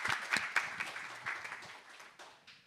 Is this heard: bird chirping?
no